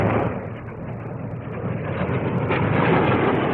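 A Blackburn NA-39 Navy low-level strike jet in a 1959 Farnborough flying display, a loud continuous jet roar that dips slightly then builds again, heard from a distance with no speech.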